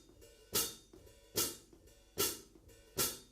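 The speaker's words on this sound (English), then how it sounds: "The hi-hat also opens and closes, and depending on when you hit it, different sounds can be produced" A drum-kit hi-hat is struck four times at an even, steady pace as it opens and closes, each hit a bright, sizzling wash that quickly fades, heard close and alone.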